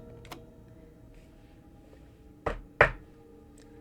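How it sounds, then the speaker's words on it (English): Two sharp knocks on a door in a horror video game, close and distinct, following a faint earlier tap against a quiet background hum. "He knocks on the door, no response."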